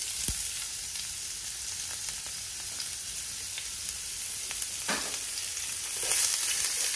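Diced onion and Bangladeshi garam masala (panch phoron) fry in a pan with a steady, close hiss of sizzling oil throughout, a few soft clicks of stirring, and the sizzle swelling louder near the end.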